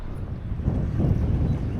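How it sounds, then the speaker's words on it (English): Steady wind buffeting outdoors, a low rumbling roar that swells slightly partway through, with no voices. "a little bit windy"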